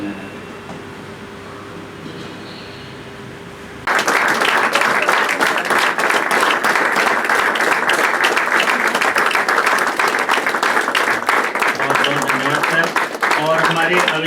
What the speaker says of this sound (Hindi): बहुत बहुत तालियों से हम लोग अभिनंदन करेंगे।